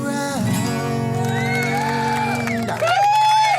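A crowd-cheering sound effect swells with loud whoops and rising, sliding shouts over a dense, sustained roar of voices.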